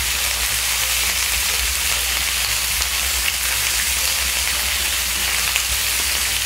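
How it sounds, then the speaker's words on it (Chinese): Free-range chicken pieces frying in a pan over medium heat give a steady, close hiss and crackle that stays even from start to finish, with no one speaking. "我现在是用中火哈，煎差不多两分钟的时候就可以翻面了。"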